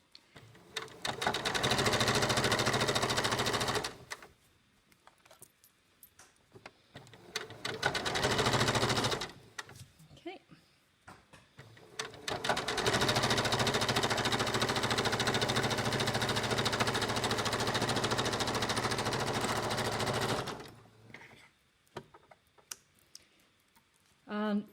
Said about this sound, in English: So I'm sewing red thread so you can see it in this pale blue.